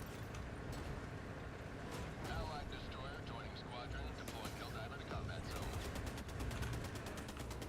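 Video-game gunfire rattles in dense, rapid bursts over a constant wash of battle noise. Weapon reports stack into a steady machine-gun-like stream toward the end.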